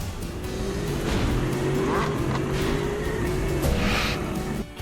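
Racing car engine from the mobile game Real Car Racing Simulator, a steady loud drone with rising gear-like whine and some tyre squeal, continuous throughout with no talk.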